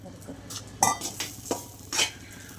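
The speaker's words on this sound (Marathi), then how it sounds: "परत थोडंसं तूप टाकून घ्यायचं त्यामध्ये काजू बारीक केलेले टाकून भाजून घ्यायचे थोडेसे" Chopped cashews roasting in ghee in a pan for methi laddoos, heard as a few close metallic scrapes and clinks of a spoon stirring over a soft sizzle, no speech.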